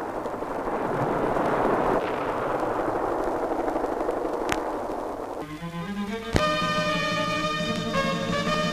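Heavy artillery fire rumbles in a war documentary as a continuous dense roar of distant blasts with a couple of sharp reports, then dramatic music rises over the bombardment toward the end.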